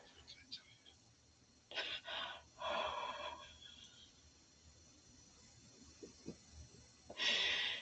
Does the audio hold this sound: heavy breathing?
yes